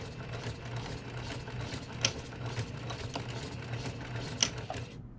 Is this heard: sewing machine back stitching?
yes